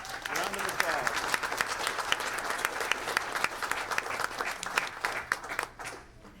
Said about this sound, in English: Please come on down and join us at the front. Round of applause.